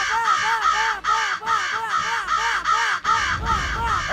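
A crow caws over and over in a rapid, regular series of about ten harsh calls, loud and close, with a low rumble of background noise near the end.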